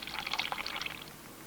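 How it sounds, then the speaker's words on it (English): Water pours out of a drinking vessel aboard a sailing ship in the video game Sailwind, a soft, brief splashing trickle that fades out over a quiet background. "you pour the water out, so be very careful with that"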